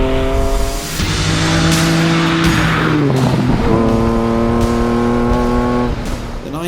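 A 90s Lamborghini Diablo SV supercar roars loud and close, its engine revving up through gear changes with a tire squeal and strong acceleration.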